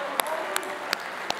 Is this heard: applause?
yes